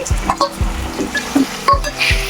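Green chillies and tomato pieces tossed into a sizzling pan of mutton curry cooked with dosakaya, heard close up as steady frying hiss broken by four or five soft, dull thumps and stirring scrapes, with no voices.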